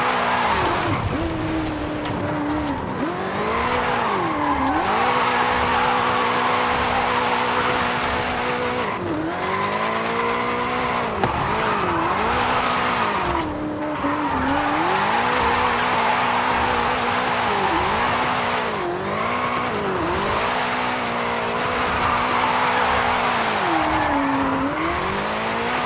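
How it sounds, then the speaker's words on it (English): Car drifting in Forza Horizon 5, racking up huge drift points amid heavy tyre smoke: continuous loud engine revving with rising and falling pitch sweeps and sustained tire squeal throughout, no talking. "Over 1 million drift points. That much tyre smoke must be visible from the city."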